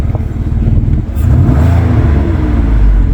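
A Ford Explorer's engine, just after an injector replacement, revs loudly during a drive, a throaty acceleration that climbs and holds, heard close from inside or near the vehicle.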